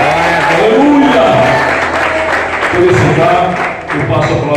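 Congregation applauding during a Sunday worship service in an evangelical church, dense sustained clapping close by, with voices and singing-like shouts mixed throughout.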